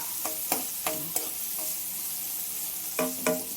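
Onions frying in a pan with urad dal and curry leaves, a low steady sizzle broken by several sharp clinks and scrapes of a spatula stirring against the pan, close and without voices.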